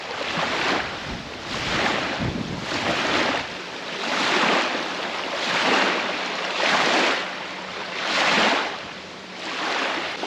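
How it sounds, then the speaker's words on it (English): Strong wind gusting across a lakeside campsite, roaring in broad surging waves every second or two with buffeting rumble on the microphone, loud and continuous with no talking. "I was hoping the wind would be calming down, because it feels like it was calming down at the campsite, but it is way too windy"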